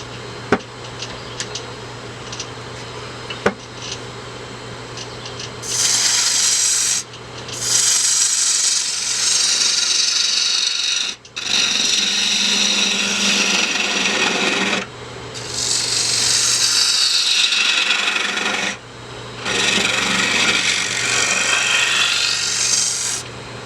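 Flattening the top face of a wooden urn with a hand tool, a loud steady rasping in four long passes separated by brief pauses, close and alone after a quiet start.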